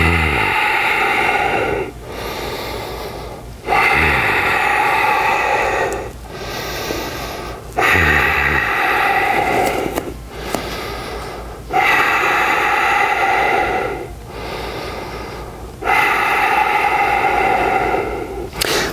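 Heavy rhythmic breathing during yoga-style breath training in a dumbbell workout, with about five long, loud exhalations and inhalations in a steady cycle, each lasting a couple of seconds with brief pauses between, close and alone without speech.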